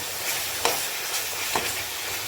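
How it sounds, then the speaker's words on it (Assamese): Masala for an Assamese bahu mash dish is stirred in a frying pan, making a continuous oily sizzle with two soft scraping strokes of the spoon, close and without speech. "সুন্দৰকৈ লৰাই লওঁ।"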